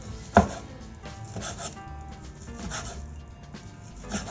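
A knife slices through barbecue pork on a cutting board, giving a sharp initial chop followed by quieter, irregular cutting and scraping taps, close and fairly faint.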